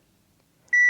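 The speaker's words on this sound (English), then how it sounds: "You'll see that it beeps and flashed green right there." A Wyze gun safe with a freshly reinstalled battery tray gives one short, clear electronic beep after near silence.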